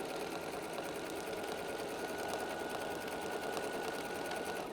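A Bernina sewing machine runs a continuous, even back-stitch through flannel rag quilt binding, its steady mechanical whir close and unbroken, with no talking.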